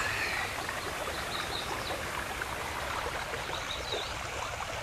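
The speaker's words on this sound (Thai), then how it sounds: "ได้มานั่งนิ่งๆอยู่กับเสียงลำธารเสียงน้ำตกเสียงแมลง" A mountain stream and waterfall in the hills of Lampang rush in a steady, dense wash of water noise that never lets up, close and fairly loud, with faint insect chirps drifting above.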